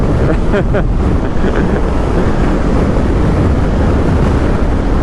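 Strong gusting wind buffets the microphone on a BMW R1300GS motorcycle ride, a loud continuous roaring rush that fills the whole stretch, with no clear speech.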